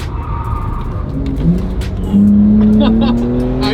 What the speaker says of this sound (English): time for a little autocross action in the Carrera S